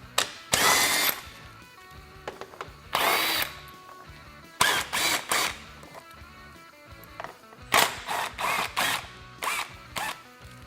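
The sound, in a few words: power drill removing screws from Polaris RZR Pro XP front fascia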